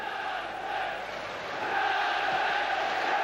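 A football stadium crowd at a Champions League match between Manchester United and Fenerbahce makes a broad, distant roar that swells slightly louder partway through, with a commentator talking over it.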